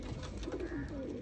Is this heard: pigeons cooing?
yes